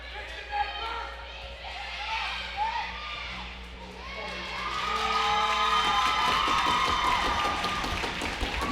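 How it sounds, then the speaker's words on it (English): A Newfoundland crowd at an under-17 boys' hockey gold medal game applauds and cheers, building to a fuller roar of clapping partway through, with scattered shouts and a commentator talking over it. "Newfoundland crowd applauding Nathan Grucci"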